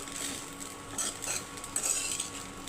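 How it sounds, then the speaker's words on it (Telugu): A spoon stirs cooked jeera rice with fresh coriander leaves in a pot, giving soft scraping and light metallic clinks against the vessel, close and quiet with no talk. "కొంచెం కొత్తిమీర వేసి కలిపేసుకుంటాను."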